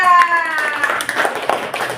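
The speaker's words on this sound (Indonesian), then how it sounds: "Mari kita beri tepuk tangan untuk kelompok 3" A scattering of hand claps rises over a brief voice, light and uneven, like a small group applauding indoors.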